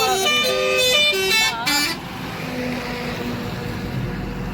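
A truck horn blares repeatedly and loudly on a road during a pilgrims' walk from Vadli to Dwarka, several long honks in the first two seconds followed by steady traffic rumble.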